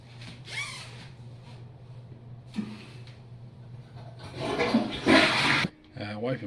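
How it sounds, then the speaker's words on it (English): A toilet flushes in a small bathroom, its rush of water swelling loud toward the end after quieter rustling and a steady low hum, with a brief gurgle trailing off at the close. "And finally, flush the potty."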